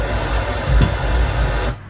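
A low, bassy thump made by a hand moving over a phone, sitting inside a steady broadband noise bed; a single soft kick-like boom lands near the middle.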